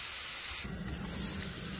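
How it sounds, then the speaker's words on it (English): An Angus sirloin roast browning in a hot pan, giving a loud, steady sizzle with hissing spatter that surges as the meat is set down and continues close and unbroken. "now we're going to flip it over to the other side. And we're going to brown the other side."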